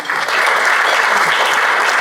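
A round of applause at a Rotary club meeting, dense and sustained clapping from the room that holds steady for a couple of seconds.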